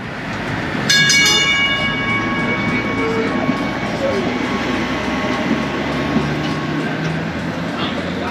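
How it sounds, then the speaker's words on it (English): A free tram in Aruba runs along its street track, a steady rumbling roll with a bright ringing bell or horn tone near the start, continuing loudly and close for several seconds amid street ambience. "So the tram is one of those things that you can take here and it's completely free."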